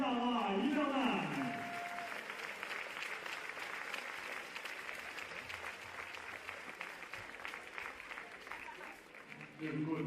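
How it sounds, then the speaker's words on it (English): A crowd applauds at the Lyon indoor athletics meeting, a World Athletics Indoor Tour Silver event: broad, steady clapping fills the arena for ten seconds after an announcer's voice fades at the start. "Il est beau ce sourire et il n'attend que vos applaudissements."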